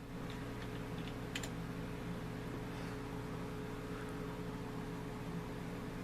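Quiet computer keyboard typing, a few soft key clicks in a short burst over a low steady hum of room or machine noise.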